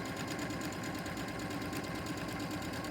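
A sewing machine runs a quarter inch seam while piecing a nine patch quilt block, a continuous rapid mechanical whir and tick with no talking.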